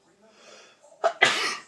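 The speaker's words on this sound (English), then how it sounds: "About to sneeze." One close, abrupt sneeze, preceded by a quick sharp intake of breath, in an otherwise quiet room.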